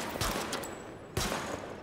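Sidearm gunfire at highlighted targets in The Division video game: two sharp pistol shots, one early and one just past the midpoint, each trailing off in a short echo.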